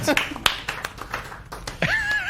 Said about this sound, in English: let's do a nice slow golf clap for the end of that round